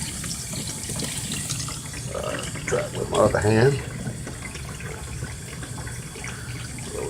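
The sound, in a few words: tap water filling a twin tub washing machine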